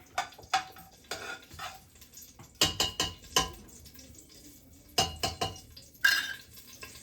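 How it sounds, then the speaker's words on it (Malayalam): Cinnamon sticks and bay leaves dropped into hot ghee in a pan, giving a soft crackle and sizzle amid clinking of a utensil against the pan in scattered quiet bursts. "ആദ്യം നമുക്ക് കുറച്ച് നെയ്യിടാം. എന്നിട്ട് കുറച്ച് ഇത് പട്ടയും ഈ ഇലയൊക്കെ വെച്ചിട്ടുണ്ട്,"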